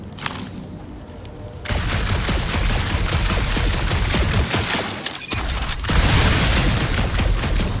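Sustained, dense gunfire blasts from the Guardians of the Galaxy action game, loud and continuous after a brief quieter opening, with a short dip midway before the barrage resumes.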